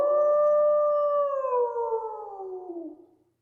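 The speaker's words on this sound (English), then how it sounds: "it's a quick Halloween wolf howling" A long, mournful wolf howl for Halloween, loud and close, holding a steady pitch before sliding downward and fading out.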